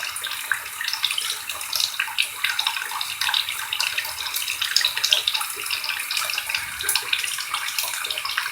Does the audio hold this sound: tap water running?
yes